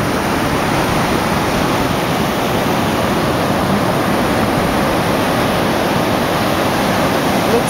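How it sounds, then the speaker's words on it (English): Ocean surf breaking on a Gold Coast beach in Australia, a steady, loud, continuous wash of waves with no break or pause throughout. "Another great day, great waves."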